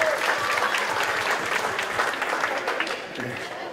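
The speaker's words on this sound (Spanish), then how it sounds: "Fuerte el aplauso para él" Audience applause for Francisco Brieva, president of CONICET, at the opening of an art and science hall at the MIM, a steady wash of many hands clapping that eases slightly toward the end.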